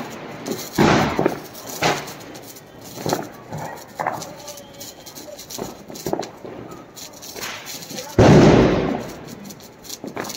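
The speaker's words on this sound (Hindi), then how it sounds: "दे दे अनार चलाओ भाई, अनार।" An anar fountain firework is lit outdoors during Diwali and Govardhan Puja celebrations. Scattered pops and crackles come first, then a loud rushing burst of sparks erupts near the end. Voices are heard faintly in the background throughout.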